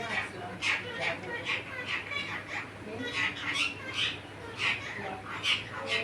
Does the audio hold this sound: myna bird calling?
yes